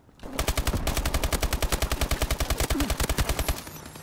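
Rapid automatic gunfire from a video game sprays in one long loud burst of evenly spaced shots, then stops near the end.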